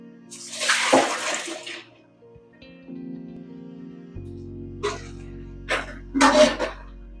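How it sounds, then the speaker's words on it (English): Cooked spaghetti being drained, with water pouring and splashing loudly in short bursts and a softer steady trickle between them. "I'll drain my pasta."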